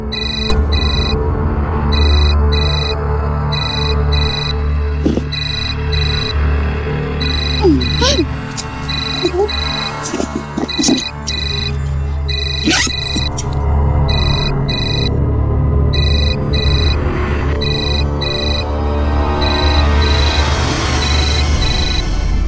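A phone rings with an incoming call, its repeating electronic ringtone pulsing steadily and loudly over a tense dramatic music bed, with a brief exchange of voices partway through.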